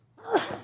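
A single short sneeze during a parish police jury meeting, fairly close and moderately loud, with a breathy burst.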